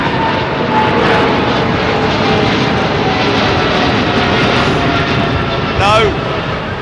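Boeing 777-200 engines roar at Heathrow Airport, a loud sustained jet drone with a brief rising whine near the end, while people chat nearby.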